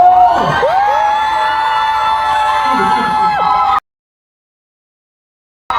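Fans at a K-pop showcase for OX:N's first EP scream and cheer in a loud, sustained high-pitched wave with whoops for nearly four seconds, then cut off abruptly into silence before noise briefly returns.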